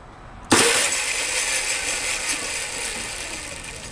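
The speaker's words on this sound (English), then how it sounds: "We'll give a both motor or dual motor test." An Arriba 10 with dual motors starts abruptly and runs at a steady, loud mechanical whir on test, fading slightly over a few seconds with no talk.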